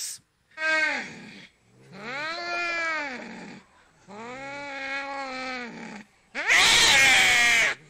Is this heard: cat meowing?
yes